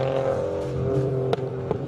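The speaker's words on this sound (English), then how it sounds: "Now you're seeing the Toyota Yaris GR being driven by Ian Kilbride." A Toyota Yaris GR race car drives hard at a hill-climb, its engine droning loudly and steadily, with two sharp clicks or gear-change pops near the end.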